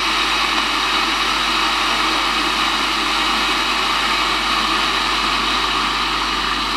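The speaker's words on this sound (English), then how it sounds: "So Alexa, turn on the kettle." A Smarter iKettle 3.0 electric kettle running, producing a steady, loud, continuous whooshing rumble with an even low hum that holds unchanged throughout.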